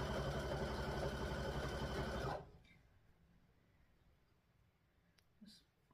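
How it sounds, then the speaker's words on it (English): A sewing machine stitches a quarter-inch seam through the layers of a quilted Christmas table runner, a fast even motor whir that stops abruptly partway through. Faint handling noises and clicks follow in near silence. "I'm just going to sew my 1/4 inch seam."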